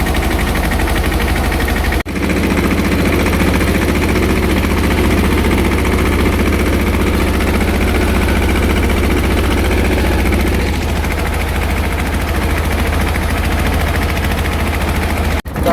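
Loud tractor engine running nearby, a steady rumbling diesel throb that holds constant, with a brief dip near the start and again at the end.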